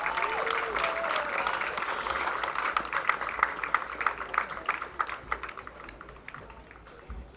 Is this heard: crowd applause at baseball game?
yes